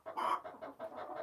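A chicken on a farm gives a short run of close, fairly soft clucks in quick succession, with no one speaking.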